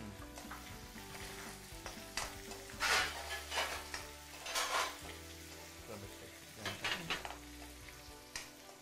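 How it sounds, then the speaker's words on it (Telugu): Onions frying in a pan with a soft, steady sizzle, broken by louder clattering bursts of stirring and utensil scrapes against the cookware; fairly quiet overall with no talking. "కొద్దిగా ఆనియన్స్ కొంచెం ఫ్రై అయ్యాక అప్పుడు ఆ వెజిటబుల్స్ వేద్దాం."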